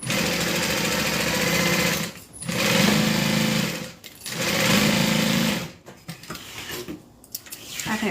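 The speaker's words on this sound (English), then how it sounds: "I think there's still something wrong with my sewing machine." A sewing machine runs in three loud, steady bursts of stitching with a mechanical knocking beat, separated by brief pauses and ending in scattered clicks and handling noises.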